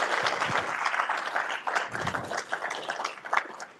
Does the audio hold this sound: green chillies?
no